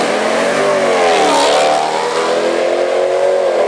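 An orange Camaro races a Pontiac, loud engines revving hard and climbing in pitch as the cars accelerate together without a break.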